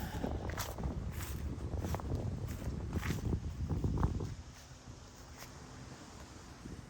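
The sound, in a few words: wind on a breezy day outdoors in a cemetery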